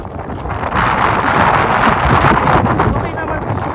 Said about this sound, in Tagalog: Malakas ang hangin kaya malamig sa mukha.